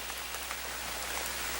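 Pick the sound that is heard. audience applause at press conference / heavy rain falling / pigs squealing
heavy rain falling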